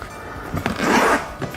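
A suitcase zipper, its teeth first poked apart with a pen, is slid open in a few short, close rasping pulls, the loudest stretch in the middle, with no talk.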